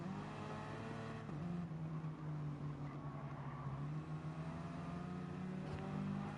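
An engine in a Gran Turismo Gr.4 race at the Nürburgring GP hums steadily and fairly faintly, with a tonal drone that shifts a little in pitch and no clear sharp revs.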